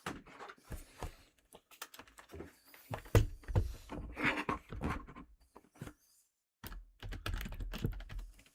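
Typing on a computer keyboard, close and fairly quiet, with irregular bursts of key clicks and occasional heavier thunks, a brief pause near the end, then more clattering keystrokes.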